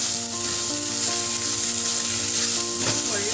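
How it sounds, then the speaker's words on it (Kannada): Methi pulao ingredients with mint frying in a pan over a low flame, giving a continuous close sizzle with faint stirring under a steady background hum. "ಲೋ ಫ್ಲೇಮಲ್ಲಿ ಇಟ್ಕೊಂಡು ಉರಿಬೇಕು"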